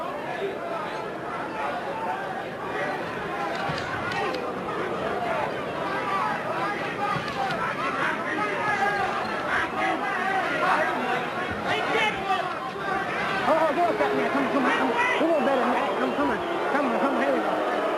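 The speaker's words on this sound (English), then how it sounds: "Crowd booing the tactics of Tony Tucker" Boxing arena crowd booing Tony Tucker's tactics during a bout with Mike Tyson, a broad sustained rumble of jeers and crowd noise that swells slightly toward the end, with voices talking over it.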